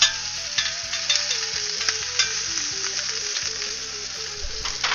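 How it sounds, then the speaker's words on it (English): Cevapi sausages sizzle and crackle steadily in a hot pan, with occasional scraping and clinking of a utensil, no voices. "Sizzling, oh so good."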